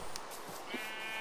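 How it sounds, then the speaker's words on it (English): A sheep bleating in Minecraft, one short wavering bleat at moderate volume over quiet game background. "I'll try breeding the sheep now."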